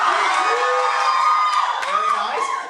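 A live audience at a judged contest screams and cheers loudly all at once, a dense, sustained roar of whoops and yells close by that fades slightly at the end.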